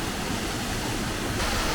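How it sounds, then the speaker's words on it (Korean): A mountain waterfall at 2900 m altitude roars in a dense, steady rush of water, close and loud, with no voices over it. "폭포 기가 막히네"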